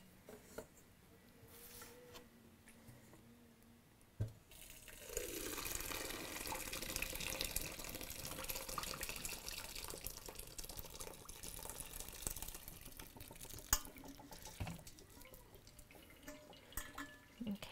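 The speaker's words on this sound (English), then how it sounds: "just gonna let this strain out" Elderberry syrup strains through a flour sack towel into a colander set in a bowl, giving a faint, steady trickling and dripping of liquid that swells after a few seconds and runs on quietly alone.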